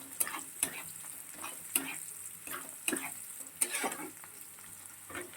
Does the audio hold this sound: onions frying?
yes